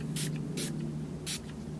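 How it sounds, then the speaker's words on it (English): Three short hissing bursts from a pump-spray bottle of 24 karat gold rose gold skin mist, evenly spaced and close by, over a steady low background hum. "Mist in 24 karat gold."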